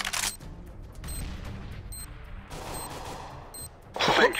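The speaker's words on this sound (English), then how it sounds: "Grenade!" Grenade blast and bursts of gunfire in a CS:GO round, with several sharp broadband cracks spread across a few seconds over low rumble and a loud burst near the end; players talk over the action.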